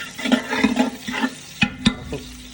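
Chopped ginger fries in oil for beef biryani, a close crackling sizzle broken by a few sharp stirring clatters of a utensil against the pot.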